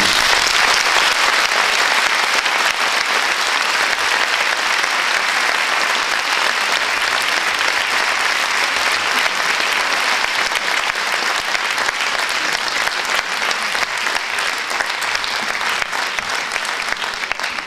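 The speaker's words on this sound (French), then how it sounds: "On vous applaudit pour au moins cette partie" Long, loud, sustained applause from a full audience at a debate evening, dense and unbroken clapping filling the room at a steady level.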